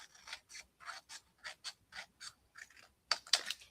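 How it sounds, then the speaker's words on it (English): Scissors trim around a paper circle cut from three stacked layers: a quiet, even run of short snips, about a dozen in a row, a little louder toward the end. "So you're just going to take your circle, and I'm just going to trim around it."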